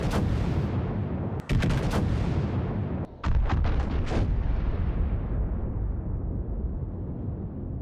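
Heavy battleship guns boom in a naval battle in World of Warships, with several loud, sharp salvos early on, then a cluster of rapid blasts, each trailing off into long rumbling reverberation.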